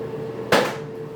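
A single sharp knock of an item being put away in a bathroom drawer, a brief wooden clunk standing alone over quiet room tone.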